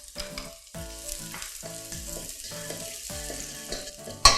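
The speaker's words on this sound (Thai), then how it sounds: "แล้วเราก็ใส่กระเทียมลงไปผัดให้หอมค่ะ" Garlic sizzles and crackles in hot oil in a pan while a utensil stirs and scrapes in short, irregular strokes, ending with a louder clatter.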